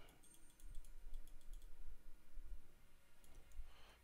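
Sharp mouse clicks while working in Blender 2.57 modeling software, a series of small irregular taps spread across the moment, close and fairly quiet against a faint room hum.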